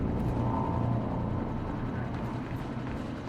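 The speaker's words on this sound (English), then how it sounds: "Is that a car running outside? Or a helicopter?" A helicopter-like engine drones steadily in the Quantum Break video game, a low continuous rumble that fades slightly, with a person talking over it.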